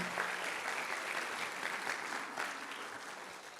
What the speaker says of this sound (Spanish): Les damos un aplauso, por favor, de bienvenida.